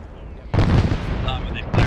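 Arma 3 artillery fire booms in as a sudden heavy blast after a quiet moment, followed by a rumbling roll and another impact near the end, loud and close, with some talk mixed in.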